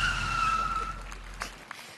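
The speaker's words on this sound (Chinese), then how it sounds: "刹车！" A car braking hard with tires skidding, staged as a comic sound effect on a theatre stage, a sharp squeal sweeping down over a low rumble before cutting off into brief stage noise.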